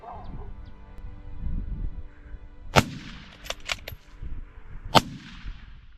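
Two sharp rifle cracks ring out a couple of seconds apart, aimed at baboons on a property in South Africa, each a sudden loud report that stands out over quiet outdoor background.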